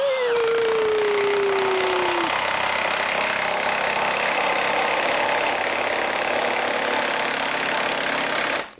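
A Milwaukee M18 Fuel high torque impact wrench drives bolts down on its high setting. A whining tone winds down over the first two seconds, then a loud, steady, rapid hammering rattle runs close up until it cuts off at the end.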